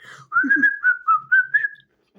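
Someone whistles a short wavering melody, a few sliding notes in quick succession, close and clear against near silence.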